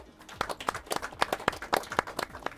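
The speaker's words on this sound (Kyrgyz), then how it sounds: "Командага бир кол чаап коелу." An audience claps for a team at a televised quiz game, irregular bursts of hand claps close together, fairly sparse and uneven rather than a full ovation.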